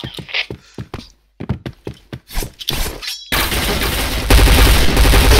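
Rapid gunfire bursts from a shooter video game with a P90 or SC weapon choice, sharp repeated shots and cracks early on, then a dense continuous barrage of loud fire and impacts filling the rest.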